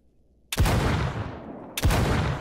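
Two sharp, loud gunshots ring out in S.T.A.L.K.E.R. GAMMA, spaced about a second apart. Each crack leaves a long, booming tail that rolls away.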